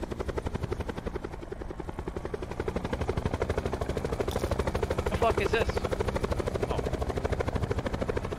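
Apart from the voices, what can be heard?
helicopter flying in a video game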